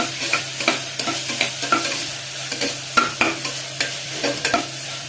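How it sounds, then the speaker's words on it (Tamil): Garlic paste is stirred and fried in a pan for a drumstick gravy, with a steady sizzle and rhythmic scraping strokes of a spoon about twice a second, close and clear, with no voices. "இப்போ நம்ம பூண்டு பேஸ்ட்டை ஆட் பண்ணிக்கலாம். நல்லா மிக்ஸ் பண்ணிக்கோங்க."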